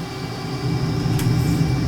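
A Eurofighter jet engine in a flight simulator throttles up, a steady low drone that grows slightly louder and denser partway through, with no talking.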